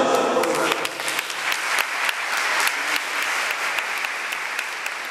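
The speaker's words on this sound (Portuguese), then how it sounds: "Cristina Palma, que merece uma salva de palmas" A church congregation at a carnival retreat at Nova Friburgo cathedral claps steadily for several seconds, a bright, even patter of many hands with sharp individual claps standing out, close and continuous.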